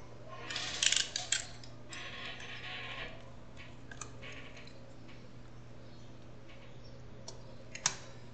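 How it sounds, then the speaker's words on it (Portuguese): Plastic clicks and light taps as a keyboard is pried out of a laptop during repair, close by, in a few brief bursts over a steady low electrical hum. "E aqui agora a gente vai remover aqui, ó, o teclado"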